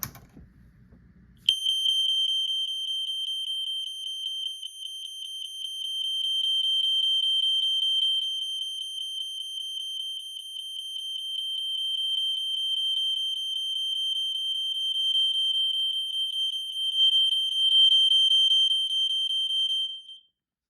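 A fire alarm horn blares a single continuous high-pitched 2400 Hz tone, loud and unbroken for nearly twenty seconds after a brief quiet start.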